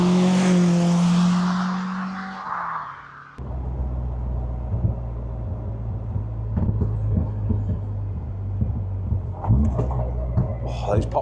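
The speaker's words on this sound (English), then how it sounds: "Oh, those pops and bangs." A Caterham sports car drives on a country road, its engine droning in a low rumble. Its exhaust gives scattered pops and bangs, close and fairly loud, after a high engine note fades away at the start.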